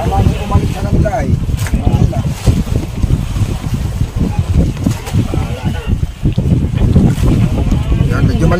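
A fishing boat heaves on rough open-sea waves during a tuna trip, with sloshing water and buffeting wind noise close to the microphone, under someone talking.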